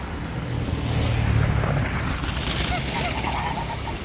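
A white goose and a grey goose hiss and honk outdoors in winter in Mar del Plata amid a constant rough noise, the calls close and harsh.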